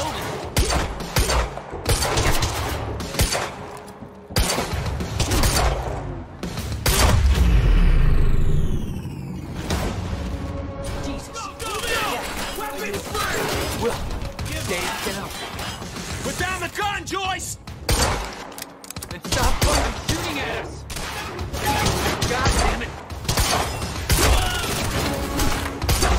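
Dense bursts of gunfire and rattling automatic fire from the video game Quantum Break, loud and continuous, with debris-like crashes, rumbling impacts, and voices shouting over the shooting.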